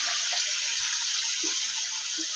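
Tap water runs steadily into a basin as a bucket is topped up with more water and soap for cleaning, a loud continuous gushing rush with a few faint low knocks beneath it.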